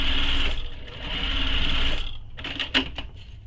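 Sewing machine topstitching a fabric panel of a mini messenger bag, a close, loud steady whirring run that pauses briefly, then gives a few short stitching bursts with clicks.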